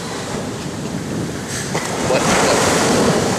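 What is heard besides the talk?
ocean waves crashing on the shore at Cabo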